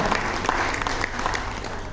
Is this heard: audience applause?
yes